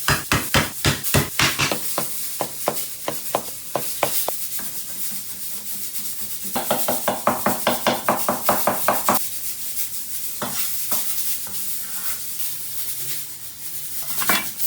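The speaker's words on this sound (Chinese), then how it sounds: "剁点姜，剁点蒜哈。" Ginger and garlic are chopped with a cleaver on a cutting board in a kitchen, rapid bursts of sharp, close knocks in rhythmic runs separated by quieter pauses, with no talk.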